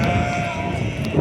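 Lambs bleating nearby amid a large flock at a livestock sale, a steady chorus of overlapping high cries with constant background noise.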